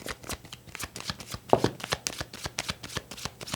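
Tarot cards being shuffled and drawn during a reading: a steady run of crisp riffling flicks and soft slaps, close and fairly quiet, with no talking.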